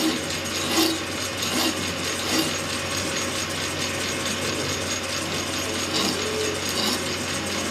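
A hand file is drawn over the corners of a small metal part, rasping in a steady back-and-forth rhythm with dense, gritty scraping at close range and no voices.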